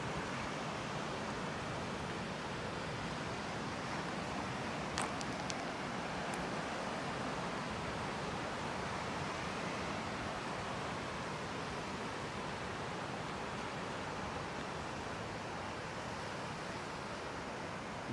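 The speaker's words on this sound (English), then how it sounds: "You can see the rough Atlantic Ocean." Rough Atlantic Ocean surf at Bathsheba, Barbados, heard as a continuous broadband roar of breaking waves, steady and fairly distant, with a couple of faint brief ticks and no talking.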